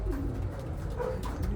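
Pigeons coo in soft, low, rounded calls that run through the whole short stretch, fairly close, over a steady low background rumble with no talk.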